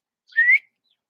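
A single short, clear whistled note rising slightly in pitch, sounded by a person calling back, close and alone with no talk.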